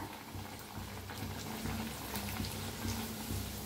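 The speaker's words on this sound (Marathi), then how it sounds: "आता तळून घेऊया आपण. तेल बी गरम झालंय." Tomato puris fry in hot oil, giving a steady dense sizzle and bubbling that holds at an even level throughout, close and continuous with no speech.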